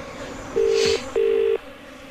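Two steady telephone keypad tones sound in quick succession as a phone number is dialed, each lasting under half a second over a quiet room background.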